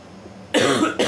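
Two harsh coughs, the second shorter, burst out close and loud after a quiet moment, from someone speaking during a church-themed talk.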